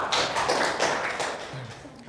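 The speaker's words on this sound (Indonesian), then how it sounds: "Tepuk tangan dulu untuk Christophorus." A group applauds during a university session, a short burst of hand clapping lasting about two seconds, with voices talking over it.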